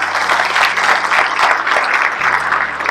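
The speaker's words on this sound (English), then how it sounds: "So if you would please give them a round of applause." Audience at a county chamber of commerce event gives a round of applause, loud dense clapping filling the room at close range with a faint low hum underneath.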